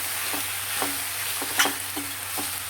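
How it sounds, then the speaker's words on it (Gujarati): A spoon scrapes and turns a Kathiyawadi-style fenugreek and eggplant vegetable curry in a pan, giving a few distinct strokes at an uneven pace over a steady, soft sizzle close by. "આપણા શાકને એક મિનિટ થઈ ગઈ છે હલાવી અને ચેક કરી લઈએ"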